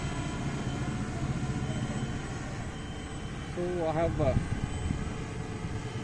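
A small drone powered by a homemade pack of six LiFePO4 cells in series, about 19 volts, hovers with a steady buzzing hum throughout while someone talks over it.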